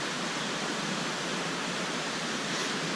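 Steady broadband rushing of the Oven River flowing nearby in cold weather, a continuous even wash of water with no breaks and no voices over it.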